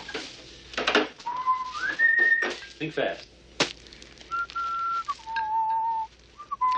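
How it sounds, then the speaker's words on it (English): A person whistles a song tune with sustained, sliding tonal notes and pauses, fairly close, and a voice briefly speaks between phrases. "What was that song you were whistling before?"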